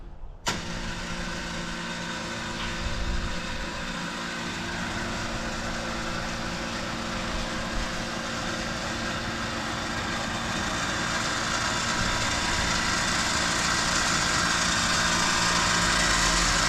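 A winch on a Polaris General XP starts abruptly and then hauls in its line with a steady, unbroken motor whine and hum that holds at a fairly even level throughout.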